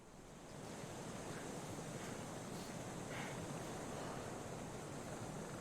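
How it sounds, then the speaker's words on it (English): A waterfall in the Kholat video game gives off a steady, broad rushing roar that swells in after half a second and holds loud and even throughout. "There's a waterfall that we kept hearing, but I haven't found before."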